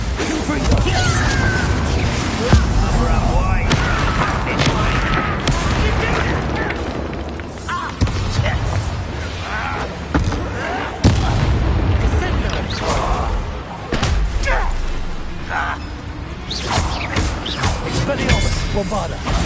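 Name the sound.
Bombarda spell explosions in Hogwarts Legacy video game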